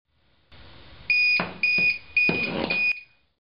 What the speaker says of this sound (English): I've unplugged it, and it beeps 3 times.